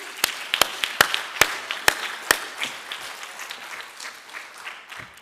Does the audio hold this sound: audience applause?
yes